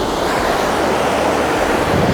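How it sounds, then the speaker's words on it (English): Steady, loud rush of water flowing through a stream in Zion at night, a continuous broadband wash with no pauses or voices. "we've got some pretty decent water flow flowing through the foreground"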